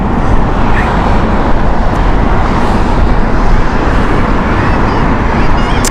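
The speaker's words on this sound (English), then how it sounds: "Seven-year-old A380 here from British Airways, King of the Skies here" British Airways Airbus A380 super jumbo, seven years old, at Heathrow on a windy morning, a steady loud broadband roar of jet engines and rushing air running unbroken throughout.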